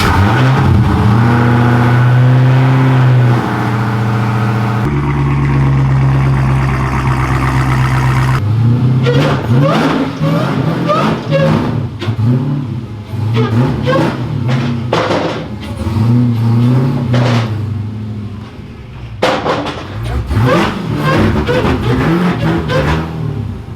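A car engine revs loudly and repeatedly as the car is pulled onto a lift in a shop, with throttle blips rising and falling in bursts over a steady engine drone.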